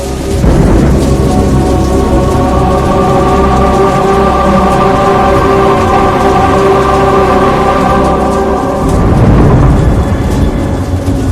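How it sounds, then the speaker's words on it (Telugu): Heavy rain pours steadily with a deep rumbling roar underneath, swelling again near the end; no one speaks. "ఇదేంటి ఇప్పుడు వర్షం పడుతుంది?"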